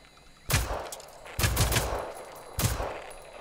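Three loud, close shotgun blasts from a video game aimed at a dish, each a sharp boom with a short decaying tail, spaced roughly a second apart with no talk.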